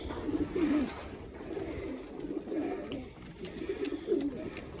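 Pigeons feeding young squabs coo in a loft, with soft, low, throaty rolling coos repeating every second or so, close by over light background noise.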